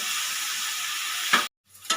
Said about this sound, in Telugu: ఇప్పుడు నేను చికెన్లో కొద్దిగా పసుపు వేసుకున్నానండి. బాగా ఫ్రై చేద్దాం.